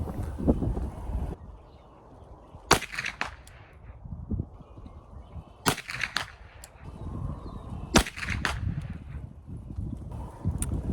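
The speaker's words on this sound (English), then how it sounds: "we'll go ahead and shoot 3 shots of each one right now" An UZI 9mm carbine firing three rounds of Federal ammunition outdoors at 100 yards, three sharp cracks spaced a few seconds apart over low wind and ambient outdoor noise.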